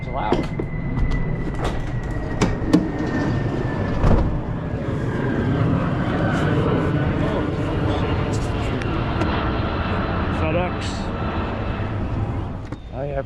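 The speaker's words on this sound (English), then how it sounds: "Airplanes loud." A loud airplane roars overhead outdoors during curbside trash picking, a broad steady rumble that persists for the whole stretch, with a voice talking over it and some thumps and rustling nearby.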